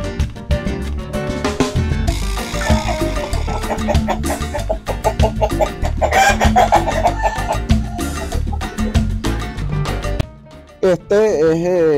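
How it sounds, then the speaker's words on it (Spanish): Chickens cluck and an adult rooster calls amid busy backyard farmyard noise, with a human voice speaking in Spanish near the end. "Este es ya un poco mayor, este gallo, ya es bastante adulto."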